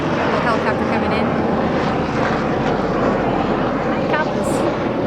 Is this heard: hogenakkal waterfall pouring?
no